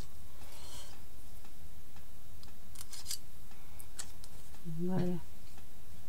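Scissors cutting paper pieces for artist trading cards, close crisp snips in a short run of separate cuts, with a brief spoken word near the end.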